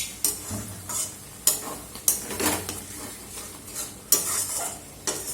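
Lote fish jhuri frying in a pan over raised gas heat, with a steady sizzle broken by repeated sharp scrapes and clacks of a spatula stirring against the metal, close and fairly loud.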